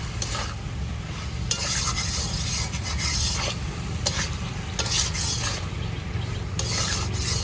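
A jackfruit and prawn curry is stirred in a pan, a steady scraping and rasping of the spoon over a soft continuous sizzle, close and fairly loud with no voices.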